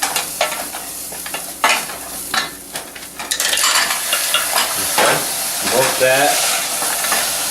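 Broth cubes heating in a pan over high flame, giving a loud sizzle with repeated spoon stirring and scraping against the metal, close by, and a brief voice over it.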